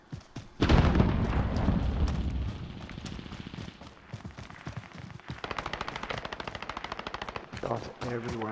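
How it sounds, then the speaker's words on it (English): Heavy gunfire in the battle royale game Warzone: a loud opening blast, then long rapid automatic bursts and separate rattling volleys that carry through to the end, with a player's voice briefly audible among the shooting. "Shots everywhere."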